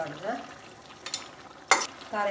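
Ginger-garlic paste and spices being stirred in a pan for a Tulu home-style dish cooked without oil, giving a soft scraping and sizzle with a couple of brief, sharper clatters of the spoon.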